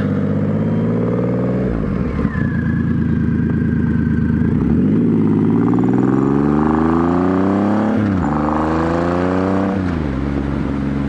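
A Triumph Rocket III motorcycle engine roars close up at wide open throttle, revving hard through rising pitch sweeps as it accelerates and shifts gears, loud and continuous.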